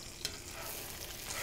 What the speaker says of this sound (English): Pan frying steaks is awesome